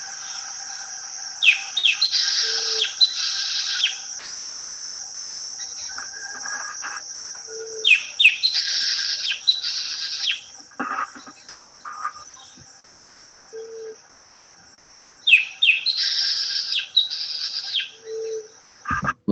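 Santa Marta antbird singing in Colombia: three bright, high-pitched song phrases, clear and fairly close, separated by quieter pauses with a few soft calls between them.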